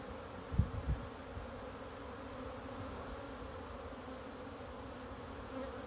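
Honeybees bringing pollen into an early-spring beehive make a continuous, soft, close buzzing drone, with a few brief handling knocks at the start.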